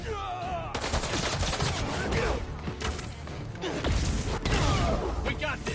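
Dense gunfire rattles in rapid overlapping bursts amid chaotic action, with shouting voices mixed in over the clatter.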